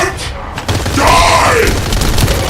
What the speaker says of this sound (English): Time to try out Lord Carell's gift to me. This precision bomb.